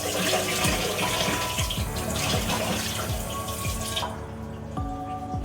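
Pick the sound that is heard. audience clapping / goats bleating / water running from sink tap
water running from sink tap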